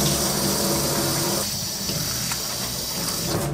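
Tap water pours steadily over napa cabbage leaves being washed in a kitchen sink, a loud continuous gushing rush up close that shifts slightly in tone as the leaves move under the stream.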